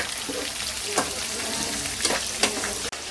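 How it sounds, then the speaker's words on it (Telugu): Okra frying in a pan for a Rayalaseema-style chicken and okra stew, giving a steady close sizzle broken by a few scraping stirs. "ఇదిగోండి ఇలా ఫ్రై చేస్తున్నాము పచ్చివాసన పోయేంత వరకు కూడా ఇది ఫ్రై చేసుకుని"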